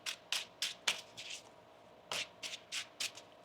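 Tarot cards being shuffled by hand, a series of about ten crisp riffling bursts in two clusters with a brief pause between, close and soft, with no talking.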